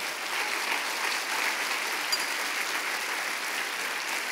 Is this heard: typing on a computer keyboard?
no